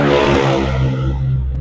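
A Suzuki DA65 4x4 pickup engine with an aftermarket muffler revs loudly and close, a steady low harmonic drone that dips and swells over a couple of seconds with a brief clatter near the end.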